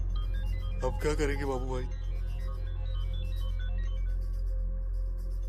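Mobile phone ringing from inside a pocket in a Hindi film, a steady tonal ringtone pattern repeating over a low hum, with a voice speaking briefly over the start.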